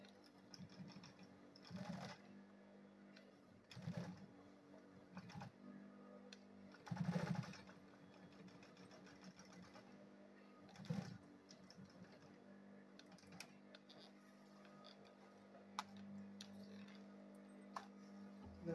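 A sewing machine stitches a fabric lunch bag in quiet bursts, short runs of rapid mechanical chatter separated by pauses and handling sounds.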